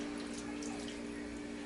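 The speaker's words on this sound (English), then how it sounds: "Now I'm just gonna add a little bit more water" Water pouring steadily into a pot of curry chicken, a faint, even gushing stream that runs without a break and without talk.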